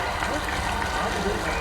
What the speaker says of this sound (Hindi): महेंद्र हार्डे जी के लिए भी जोरदार तालियां